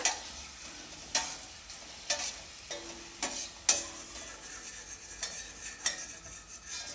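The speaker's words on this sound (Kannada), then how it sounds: "ಎಣ್ಣೆ ಚೆನ್ನಾಗಿ ಕಾದಿದೆ ಇವಾಗ ನಾನು ಉದ್ದಿ ಇಟ್ಕೊಂಡಿರುವಂತಹ ಪೂರಿನ ಹಾಕ್ಕೊಳ್ತಾ ಇದ್ದೀನಿ" Wheat-flour puris drop into hot oil and deep-fry with a soft, steady sizzle, broken by several sharp clinks and scrapes of a utensil against the pan.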